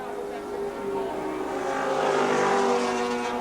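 A Group C touring car from 1984 accelerates off the circuit at Wanneroo Raceway, its engine swelling from a steady drone to a louder, rising roar as it heads toward the fence.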